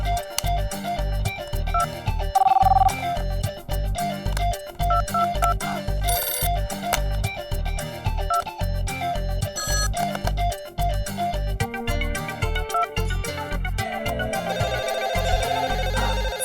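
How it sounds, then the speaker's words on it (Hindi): A telephone rings repeatedly in a home, a steady rhythmic electronic ringtone pattern looping loud and close over background music for the full stretch, with no talking. "फोन को भी ना तभी बजना होता है जब मुझे काम होता है।"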